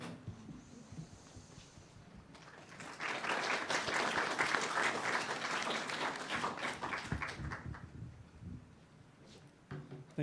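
Audience applause at a university debate union event, a broad wash of clapping that builds after a couple of seconds, holds steady, then thins out toward the end, heard from within a hall.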